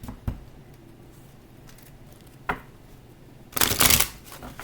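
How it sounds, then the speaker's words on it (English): Tarot cards are shuffled close by: a couple of quick isolated taps, then a dense, loud riffling burst near the end, with no talking. "we'll go ahead and shuffle"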